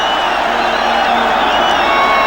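Football stadium crowd at a 1995 Copa America match between Argentina and Chile roaring and cheering, a dense continuous wash of voices with whistles, loud and sustained throughout.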